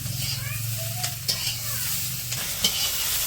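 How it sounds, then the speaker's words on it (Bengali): Puti fish frying in a pan at a village kitchen, giving a steady close sizzle with scraping stirs and a low hum underneath. "এই যে পুঁটি মাছ ভাজা হয়ে গেছে নামে নিব"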